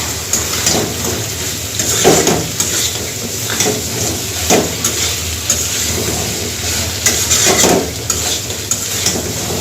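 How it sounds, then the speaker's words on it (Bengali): Bori, potol and potatoes sizzle in a frying pan while a spatula stirs and scrapes them, giving a steady loud hiss broken by periodic scraping strokes. "এখন আমি বড়ি ওই বড়ি আর পটল একসাথে দিয়ে দিলাম আলু একসাথে দিয়ে ভালো করে কষে নেবো এবার"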